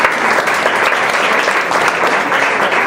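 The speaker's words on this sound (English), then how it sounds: "Let's give yourselves a round of applause for that." A crowd at a NAMIWalks fundraising event gives a dense, steady round of applause, the close, bright clapping sustained evenly across the whole moment with no voices over it.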